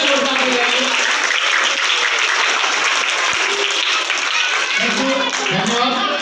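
Loud, sustained applause from a crowd honouring children at a community gathering in India, dense clapping continuing without a break at close range.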